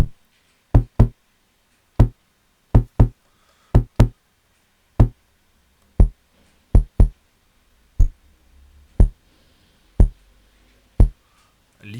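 Synthesized drum hits from a Gotharman Little Deformer 3 synthesizer, sharp punchy knocks in an irregular pattern with pitch and attack envelopes, loud and dry with brief gaps and a faint noisy tail between some hits.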